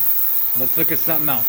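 An ultrasonic cleaner running with Polaris Indy snowmobile carburetor parts inside makes a steady, fairly quiet electric hum in the background while someone talks over it nearby.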